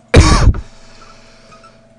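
A single harsh cough, loud and close, followed by quiet low background hum.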